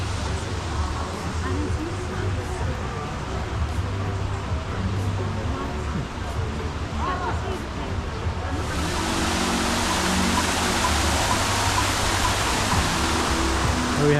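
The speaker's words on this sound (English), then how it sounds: "Oh, look at the waterfall." A waterfall at a Las Vegas luxury hotel near Mandalay Bay makes a steady, broad rushing wash of water that grows slightly louder partway through, with faint voices in the background.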